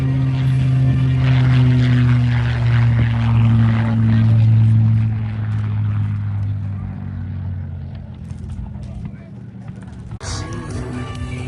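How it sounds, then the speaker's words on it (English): A P-51 Mustang propeller aircraft flies at an aero show near Portland, Oregon, its engine a steady loud drone that slowly fades as the plane passes before landing, with a crowd murmuring and a brief clunk near the end. "the P-51 Mustang is experiencing some technical difficulties and will be landing here soon"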